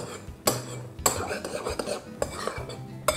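Spoon folding egg yolk into chile relleno batter in a bowl, with repeated scraping and clinking of utensil against the dish in short irregular strokes, close and clear with no talking.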